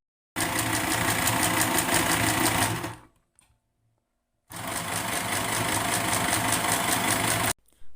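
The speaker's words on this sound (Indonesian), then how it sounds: "Untuk kecepatan mesin jahit ini dapat diatur menggunakan power yang aku tunjuk di video." A mini sewing machine runs in two steady whirring bursts of about two and a half to three seconds each, close and loud, with a near-silent pause between them.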